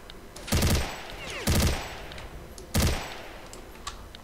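Three loud bursts of video game gunfire from Search Dies Irae, each a short rapid volley, spaced about a second apart with quieter game ambience in between.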